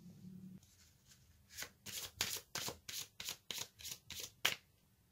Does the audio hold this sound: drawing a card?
yes